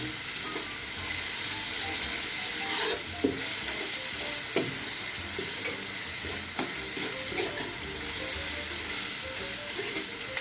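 Fresh red chilies and garlic frying in oil for a salmon stir-fry make a loud, continuous close sizzle, broken by scraping and clicking as a utensil stirs the pan, with no voices.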